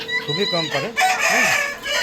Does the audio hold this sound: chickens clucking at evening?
yes